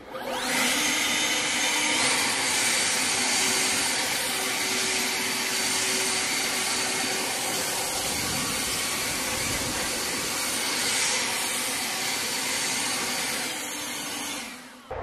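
An Ego electric leaf blower in turbo mode gives a loud, steady, broadband whoosh with a constant motor whine that holds without a break for about fifteen seconds, close to the listener and with no voices over it.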